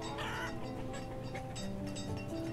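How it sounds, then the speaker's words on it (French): Chickens cluck in the village-building game Banished, a steady overlapping flock chatter that runs the whole time at a moderate level with no one talking. "On a pas mal de poulets là, c'est pas mal."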